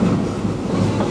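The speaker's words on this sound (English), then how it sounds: "you're traveling aboard one of 4 genuine steam-powered trains that ride these rails daily here at the Magic Kingdom" Walt Disney World Railroad steam train at the Magic Kingdom rolling along its rails, a steady close rumbling clatter of wheels and cars that stays loud and even throughout.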